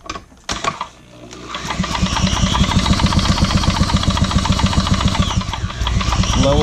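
Pioneer 550 chainsaw engine idling at low RPM, a steady, close, rapid puttering drone after a couple of sputtering catches at the start.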